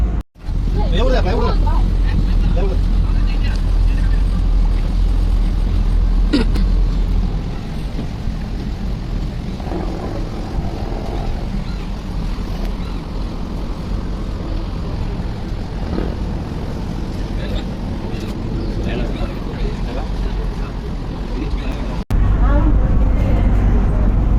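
A Kerala houseboat's engine runs steadily after starting, a loud continuous low rumble with wind noise and voices talking over it throughout.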